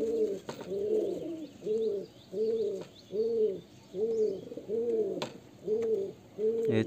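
A pair of pigeons cooing nearby, a steady run of about ten soft, throaty rolling coos in an even rhythm, with no talk.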